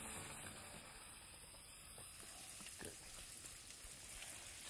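Stinging nettle greens fry in a tempering of garlic, green chillies and dried red chillies, giving a quiet, even sizzle with a few soft stirring taps throughout.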